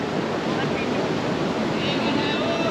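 River water pumped through a pumping station gushes out in a steady, loud, broadband roar that stays constant throughout, close to the microphone.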